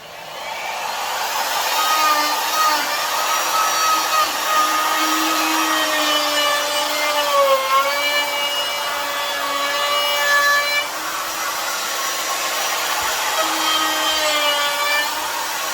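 A router with a half-inch round-over bit shapes a wooden pie-crust table leg, a loud steady high whine with shifting pitch as the bit bites the wood, continuous and close with no talk.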